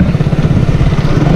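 A motorcycle fitted with its original stock silencer idles nearby, its engine putting out a steady, low, throbbing exhaust pulse with no other sounds on top.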